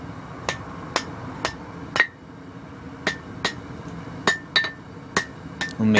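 A hammer forges steel for a barbecue fork, ringing out about a dozen sharp, bright metallic strikes at an uneven pace, close and clear against a quiet background.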